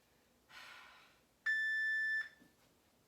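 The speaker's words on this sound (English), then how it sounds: "I'm going to get the timer going for us." A workout interval timer sounds a single steady, fairly faint electronic beep lasting under a second, after a short soft rustle in an otherwise quiet room.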